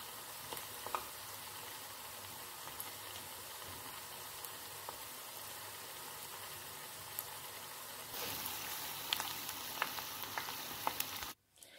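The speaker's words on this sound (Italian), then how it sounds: "E siamo pronti per friggere il nostro cavolfiore." Cauliflower in eggless batter fries in hot oil with a continuous bubbling crackle that swells louder partway through, then cuts off abruptly at the end.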